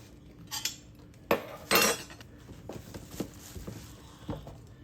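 Cut-up tomatoes drop into a home canning pot, two sharp clunks and clinks rising above quieter utensil taps and scrapes that follow, close and fairly soft.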